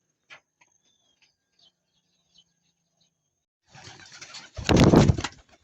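Pigeons returning to their loft after a short flight, with a few faint soft sounds followed by a close burst of wing flapping and landing bustle near the end.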